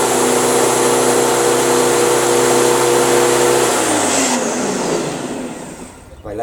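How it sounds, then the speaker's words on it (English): A Hyundai HYM3800E lawnmower engine runs with a loud, steady buzzing drone, then slows and winds down near the end, ending in a short final rattle. "I need to push the button and then pull a handle and the mower will start."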